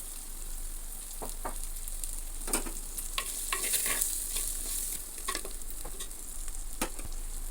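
Mint leaves and green chilies fry in a pan for a chicken curry, giving a steady, close sizzle with scattered scraping clicks from stirring and no voices.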